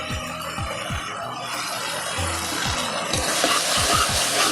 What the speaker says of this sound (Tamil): தக்காளி வதங்குது தக்காளி இந்தளவுக்கு வதங்கிடுச்சு